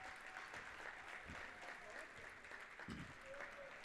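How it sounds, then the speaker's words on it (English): Basketball fans clapping in a high school gym at the close of a girls game, a steady wash of applause that runs the whole time with some crowd murmur beneath. "Edwardsville fans clapping."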